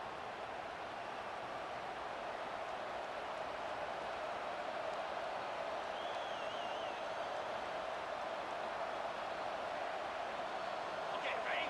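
Stadium crowd in the college football video game College Football 25, Georgia Bulldogs against Arkansas, a steady dense roar of spectators filling the whole stretch at even loudness, with no breaks or distinct cheers.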